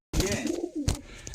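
A Punjabi border-marked pigeon gives a short, close cooing call, a couple of throaty warbled notes within about a second.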